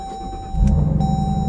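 A 2025 Dodge Durango Hellcat's 6.2-liter V8 Hemi cranks and fires up about halfway in, shifting from a quiet cabin to a loud, steady low rumble at idle, close by, with no talking.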